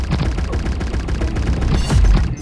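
Rapid gunfire in the blocky shooter Pixel Gun 3D rattles continuously, a dense stream of shots with a few heavier bursts near the end.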